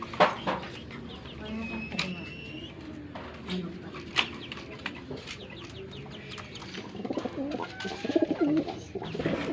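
Pigeons coo softly and repeatedly nearby, with scattered clucks and rustling, and a few louder calls toward the end.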